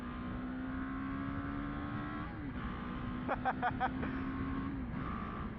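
A 2023 BMW G 310 GS Rallye motorcycle engine hums steadily at a low pitch, dipping briefly, with a few quick rhythmic pops or blips near the middle; no one talks.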